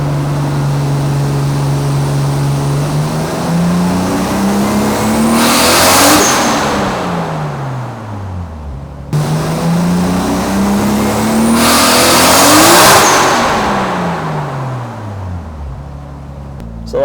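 A tuned 1990 Nissan R32 Skyline engine revs hard on a dyno in two long pulls with boost raised, climbing steadily in pitch to a loud peak before dropping away, with no talking.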